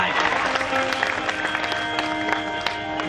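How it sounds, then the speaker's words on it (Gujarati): An audience claps in a lively burst of applause at a Gujarati comedy dayro performance, dense and continuous handclaps filling the whole moment, fairly loud and close. "હવે બધાય તાળી પાડો તો વાંધો નહીં"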